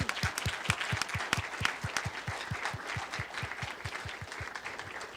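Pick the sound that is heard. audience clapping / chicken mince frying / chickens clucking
audience clapping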